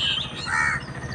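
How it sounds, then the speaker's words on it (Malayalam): Crows caw in the morning, a harsh, close, fairly loud call that runs unbroken through a brief moment, with no voices. "ഭയങ്കര കാക്കേൻ്റെ കരച്ചിലാണ്"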